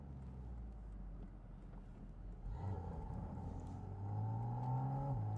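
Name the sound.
Porsche 718 Spyder RS engine revving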